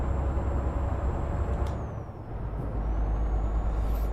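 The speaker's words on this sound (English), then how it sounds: "Now there's a truck coming. I think he has to slow down for me." A heavy truck in Euro Truck Simulator 2 rumbles at close range with a steady low drone, and a sharp hiss of air brakes cuts in midway as it slows.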